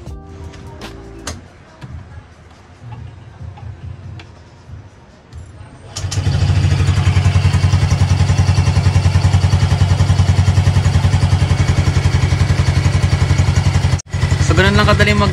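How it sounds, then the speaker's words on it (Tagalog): A motorcycle engine starts after an oil change. It catches with a sudden roar, then runs at a loud, steady, close idle for about eight seconds before a brief dip, following quieter talk and handling noises. "start natin yung motor."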